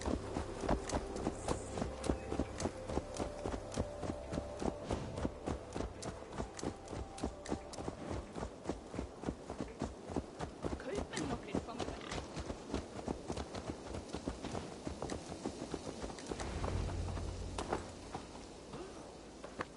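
Horse hooves clip-clop steadily in Assassin's Creed Valhalla, a regular walking rhythm of close, crisp hoof strikes that carries through the whole stretch, with faint talk in the background and a brief louder thump near the end.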